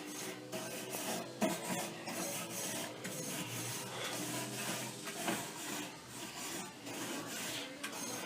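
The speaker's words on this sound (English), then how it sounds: "So I'm going to open her up. Give her a scrape down." A grill grate being scraped down after running hot, steady rasping scrapes repeating back and forth at close range with no talking.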